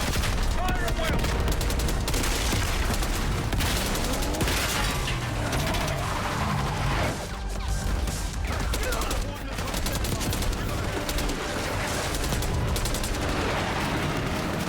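Dense, rapid gunfire in Call of Duty: Black Ops 6, with bursts of automatic fire and sharp shots crackling continuously and loudly, mixed with mechanical clatter and voices underneath.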